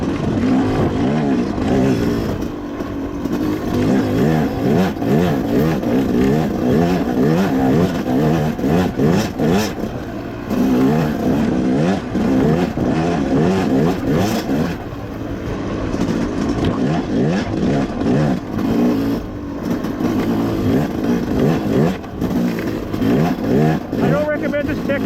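A 2025 Yamaha YZ250X dirt bike rides through whoops on an OHV trail, its engine revving loudly and surging in waves close up, with a rider talking over the noise.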